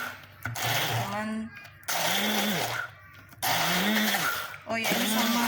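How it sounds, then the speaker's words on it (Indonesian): A blender grinds spices and roasted ginger in bursts, the motor whirring loudly with rising and falling pitch and stopping briefly between pulses. "kita haluskan dengan blender"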